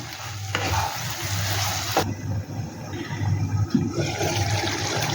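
Potol (pointed gourd) and prawn paste being stirred and sautéed in a pan, with a steady sizzle and scraping of the spoon running throughout, close and fairly loud, no talking.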